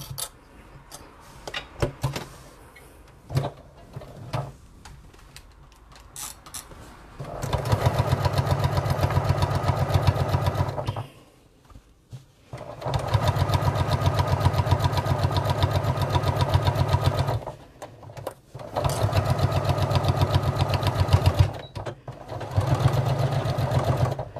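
A sewing machine reverse-stitching a tote bag runs in several loud, steady motor bursts a few seconds long, separated by pauses filled with small clicks and handling noises.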